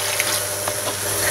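Water pours steadily into a pot, a continuous hissing splash with no talking.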